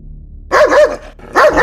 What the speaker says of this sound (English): I heard a dog bark angrily.